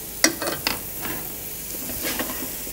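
Sole cooking juices reducing in a pan, a steady close sizzle with a few stirring scrapes and light clinks of a utensil against the pan.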